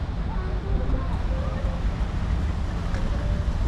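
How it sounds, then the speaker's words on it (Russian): Wind buffets the microphone on a boat trip while waves wash steadily alongside, a constant rushing noise with no clear talk. "Волны сегодня, ветерок."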